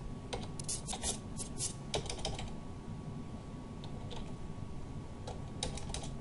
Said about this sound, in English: Okay, so you type in Steve